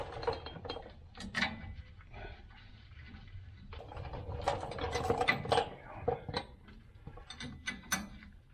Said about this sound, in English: Just have to put a wrench on that back side